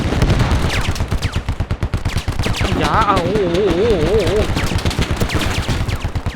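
Rapid bursts of gunfire in the video game Squad crackle continuously, with a man's excited exclamations over the shooting.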